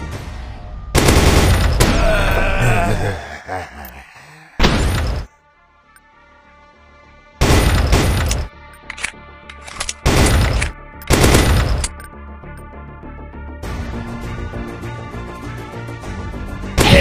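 Bursts of gunfire from the Zombie Hunter shooting game on Android, loud rapid volleys separated by short gaps, with game music and effects underneath.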